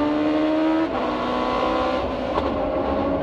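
An IndyCar race car engine at the Kansas Speedway race in 2004, a loud high droning wail that drops in pitch sharply and continues rough and lower, close by and alone.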